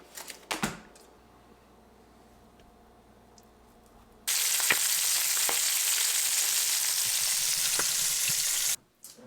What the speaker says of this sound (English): we're gonna pan fry all these slices